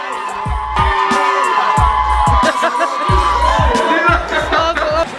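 A crowd at a rap battle event cheers, whoops and shouts loudly and continuously, with punchy bass thumps of music underneath and scattered shouting voices on top.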